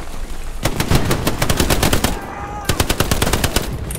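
Automatic and rifle gunfire in the WWII shooter Hell Let Loose during a competitive infantry match, dense rapid bursts and single cracks rattling almost continuously, loud and close, with a short lull midway before firing resumes.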